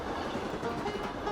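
A train rolls along in the video game Ira with a steady, moderately loud rumble and faint rattling, no voices over it.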